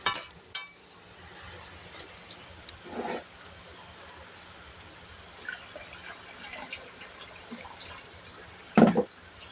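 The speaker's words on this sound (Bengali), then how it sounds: "সিদ্ধ লুডুসগুলো একটু ধুয়ে নিল পানি দিয়ে" Boiled noodles being rinsed with water in a home kitchen: a soft, steady wash of running and dripping water, with a louder splash near the end and no talking.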